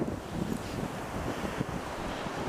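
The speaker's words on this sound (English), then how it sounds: "Wind's still blowing 40 miles an hour." Strong wind gusting at about 40 mph during the 2011 Groundhog Day blizzard in Franklin, Wisconsin, roaring steadily and loudly against the microphone with a constant broadband rush and no talking.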